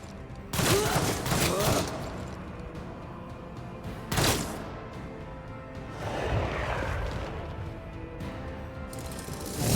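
Blast gun fire in the Warhammer 40K Rogue Trader video game: two sharp loud bursts, each trailing into a rough rumbling decay, followed by a swelling crackling roar and another burst at the very end.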